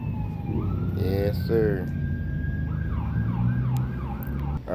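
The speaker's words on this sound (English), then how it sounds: "Ambulance over there." An ambulance siren wails with a rising and falling tone as it passes near a McDonald's, loud and steady over street noise, while someone speaks briefly nearby.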